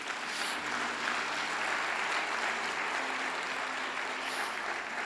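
Sustained congregational applause fills a church service, a dense, even wash of many hands clapping at full strength from start to finish, with no speech over it.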